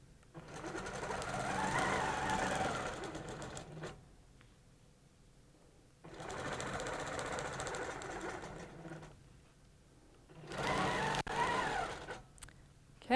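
A sewing machine stitches in three bursts, each running steadily for a few seconds with quiet pauses between, close and fairly loud, during quilting with a cable ruler.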